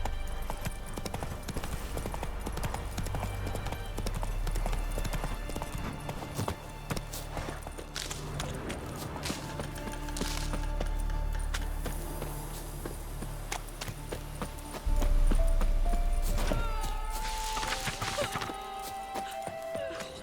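Roach the horse's hooves clatter through a long gallop in The Witcher 3, loud and close, with a burst of heavier impacts partway through and a brief whinny-like sound near the end.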